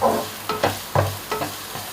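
Onion stir-fried in butter in a pan sizzles steadily while a utensil scrapes and stirs in several distinct strokes, close and fairly loud.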